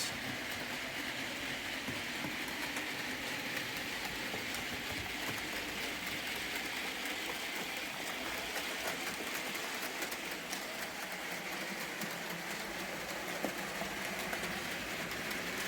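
A small model train runs continuously with a steady whirring hiss and faint rhythmic clicking, even and unbroken, no voices.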